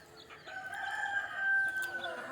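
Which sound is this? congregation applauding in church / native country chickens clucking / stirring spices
native country chickens clucking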